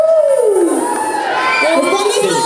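A crowd at a cosplay award ceremony cheers and shouts with whoops and high excited voices, loud and dense throughout, with a voice rising over the noise.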